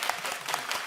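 A church congregation claps together in a steady, fairly faint burst of applause with no talking over it.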